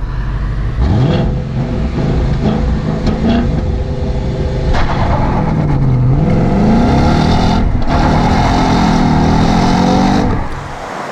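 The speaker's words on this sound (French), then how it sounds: "le bruit du V8, c'est quand même quelque chose d'irremplaçable" A Ford Mustang GT V8 engine revving up and down in loud, close, throaty swells and a rising roar before it cuts off near the end.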